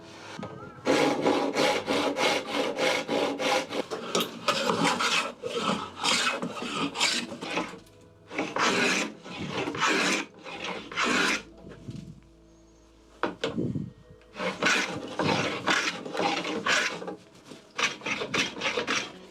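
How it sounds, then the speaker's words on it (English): A hand plow plane cuts a dado groove along the edge of a wooden board in repeated rhythmic rasping strokes, close and loud, in bursts with short pauses between. "we're going to plow a groove or a dado on the edge here"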